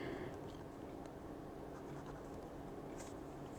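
A Pilot Parallel 3.0 nib fountain pen moves across paper with a faint, quiet scratch in short strokes, close and soft under a low room hiss.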